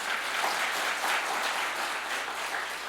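Applause from a church congregation at a Sunday worship service, a full, continuous roar of many hands clapping at steady strength, with no talking over it.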